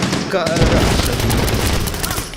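Automatic gunfire in the first-person shooter Medal of Honor Warfighter, a loud continuous rattling volley of rapid shots filling the scene close up, with a brief voice at the start.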